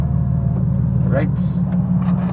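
A Hyundai Genesis sports car engine runs while driving, a steady low rumble with a constant hum close by, and a voice speaks over it.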